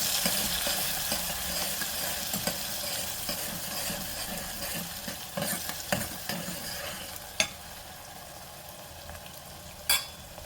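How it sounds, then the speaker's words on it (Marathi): Small chopped onion frying and being stirred in hot oil for a mutton masala, a steady sizzle with scraping stir strokes and a couple of sharp utensil clinks, close and alone with no talk. "आता हा कांदा आपण तेलावर परतून घेऊया।"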